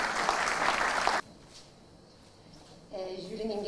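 Applause at the Ankara International Film Festival ceremony fills the first second or so with dense, loud clapping, then stops abruptly; after a quiet pause a voice begins speaking.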